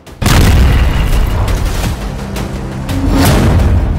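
A heavy explosion tears through an Iranian missile factory set in a mountain cavern, a loud sustained roaring boom with rumbling debris that carries on for several seconds without letting up.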